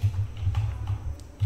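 Rapid, close keystrokes on a computer keyboard while Linux commands are typed at the command line, an uneven run of clicks with short pauses.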